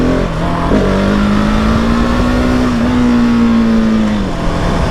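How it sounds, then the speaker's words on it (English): A 2020 Husqvarna 701 SM single-cylinder motorcycle engine revs loudly and close during a wheelie, holding a steady droning pitch under wind rush before easing off near the end. "So like, see that traction control's on and I'm doing wheelies."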